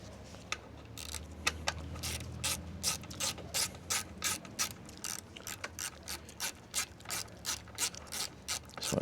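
A ratchet clicks in quick, rhythmic bursts while tightening mounting bolts on a Scag Cheetah zero-turn mower, close and clear with short pauses between strokes.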